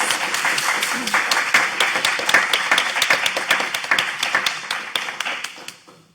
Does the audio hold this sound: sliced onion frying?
no